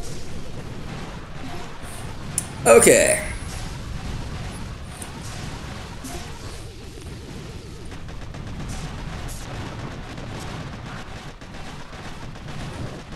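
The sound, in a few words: Boom Beach video game cannon and shock attacks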